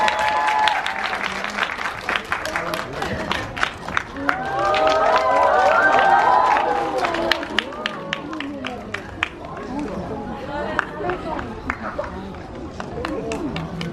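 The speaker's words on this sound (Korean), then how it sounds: "박수 한 번만 주세요." A cinema audience applauds at a stage greeting, with crowd clapping, cheers and murmuring. Voices and an amplified announcer can be heard over it.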